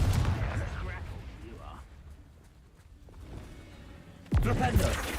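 A Confringo fire-spell blast in Hogwarts Legacy lands as one sudden loud burst near the end, following a rumbling stretch of game sound, with a voice calling out spells.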